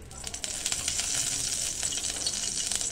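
Oil sizzles loudly in a cooker pot, a bright, dense crackle that builds quickly after a short quieter start and then holds steady and close.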